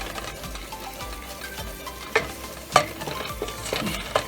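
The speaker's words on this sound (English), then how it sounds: "And I'm just going to cook this flour." Flour cooking in a pan as the base for a shrimp Alfredo sauce: a low, quiet sizzle with scattered clicks and scrapes of a utensil, a few sharper knocks near the middle.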